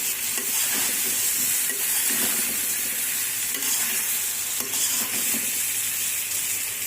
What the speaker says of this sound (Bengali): মা শুটকি মাছের তরকারি একটু নাড়া দিই